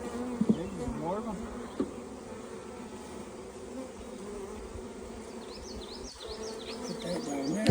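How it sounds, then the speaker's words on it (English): Honey bees from a caught swarm buzz continuously nearby, a dense steady drone with individual bees whining past the microphone. "Gotta get some more of these bees off of this one."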